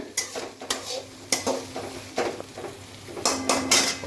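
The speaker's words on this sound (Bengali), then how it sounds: "দিয়ে এবার সমস্ত কিছু টমেটো সমেত কষাবে।" A spoon scrapes and knocks against a pan while cauliflower and tomato are stirred and sautéed over medium gas, giving a series of separate clinks over a soft background sizzle, close and clear.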